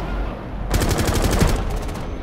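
A quick burst of automatic gunfire from the Rainbow Six Siege video game, about a dozen sharp rapid shots lasting under a second, loud and close, set against a steady background rumble.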